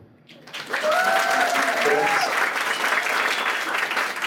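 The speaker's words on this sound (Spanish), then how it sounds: "que le demos un aplauso por enseñarnos también por 3 años" A church audience bursts into applause after a brief quiet start, a full steady clapping that carries on to the end with a faint voice or two underneath.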